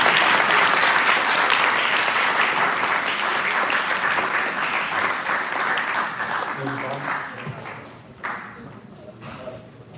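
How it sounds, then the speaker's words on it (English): Big round of applause for performing artists at a Hindu temple in Florida, a loud, dense crowd clapping that gradually fades, with a few isolated claps and faint voices near the end. "Please give them a big round of applause."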